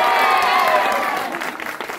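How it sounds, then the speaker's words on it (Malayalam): A theatre audience applauds a film's director, a steady wash of clapping from many hands that fills the whole stretch and thins slightly toward the end, with no talk over it. "കൈയടിക്കും പ്ലീസ്."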